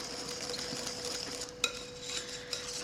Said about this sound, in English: I'm gonna mix it in.